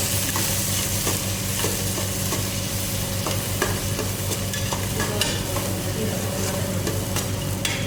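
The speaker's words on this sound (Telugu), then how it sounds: "ఉల్లిగడ్డ వేసుకుంటున్నాం. కలుపుకున్నాం మంచిగా." Sliced onions frying in hot oil for a Telangana boti curry, a loud continuous sizzle close by, with frequent scraping and clinking as the onions are stirred around the pan.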